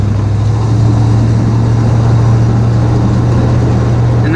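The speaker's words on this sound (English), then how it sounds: "that's an acceleration from third gear" A truck accelerates from third gear, its engine putting out a loud, steady low drone up close, alone without voices.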